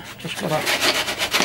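Quick, repeated rasping strokes of sandpaper on MDF, close up, with a brief spoken phrase over the start.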